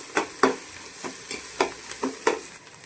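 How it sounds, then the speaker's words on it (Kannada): Ground masala frying in a pan for a Mangalorean tuna fish curry, with a soft, steady sizzle and repeated scraping stirs at an uneven rhythm, close and moderately quiet, with no talking. "ಸ್ವಲ್ಪ ಹಸಿ ಸ್ಮೆಲ್ ಹೋಗೋ ತನಕ ಫ್ರೈ ಮಾಡ್ಕೋಬೇಕು"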